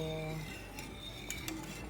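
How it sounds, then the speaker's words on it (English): A spoon stirs chocolate gravy with melting butter in a pot coming to a boil, scraping and giving a few light metallic clinks against the sides, close up with a low background hum. "Just want to give that a constant stir."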